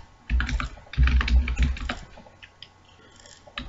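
Someone types on a computer keyboard while writing a C program, producing close, clattering bursts of keystrokes with heavy thumps, tapering into sparse, lighter taps.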